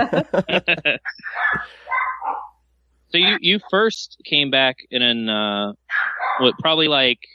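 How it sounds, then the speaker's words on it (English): Dogs bark in quick repeated yips and bow-wows under and between people talking, close and fairly loud, sometimes overlapping the voices. "Sorry for the dog."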